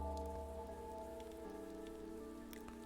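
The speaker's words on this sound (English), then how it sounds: "The only sound in the alley was the sound of the rain." Steady rain falls in an alley in the video game Chaos;Child, a dense continuous hiss of drops on hard surfaces with a low rumbling bed, no voices over it.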